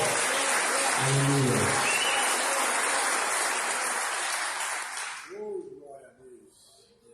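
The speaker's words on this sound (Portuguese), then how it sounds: "Pode aplaudir o Senhor." Loud applause from a church congregation during a worship service, a dense roar of clapping that fills the space for about five seconds, then drops away as a voice speaks and brief vocal calls follow.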